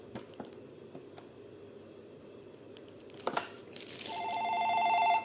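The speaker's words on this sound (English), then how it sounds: "Similarly, I can make a call from this IP phone" A Grandstream WP816 Wi-Fi IP phone dials out, with a few soft clicks and taps followed by a steady electronic tone that plays loud and close near the end.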